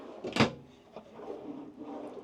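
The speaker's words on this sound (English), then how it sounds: "We also have hanging space, slide out drawers" Slide-out storage drawer in a 2024 Infinity 15 ESC campervan, a single quick sliding clunk followed by a softer knock and quiet rustle, close and alone.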